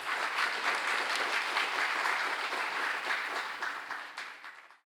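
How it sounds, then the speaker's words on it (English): An audience at the official launch of an ASEAN food program applauds steadily for a few seconds, a dense, even round of clapping that fades out at the end. "Every round of applause for the now officially launched the ASEAN Food Citizen Program"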